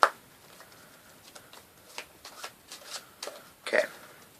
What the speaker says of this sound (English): it does involve a shuffled pack, so the spectator can shuffle it